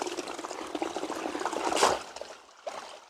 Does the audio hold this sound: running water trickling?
yes